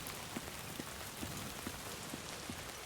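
Steady rain falls in Death Stranding 2, a dense even hiss of drops on surfaces with faint periodic taps, continuous and fairly close with no voices.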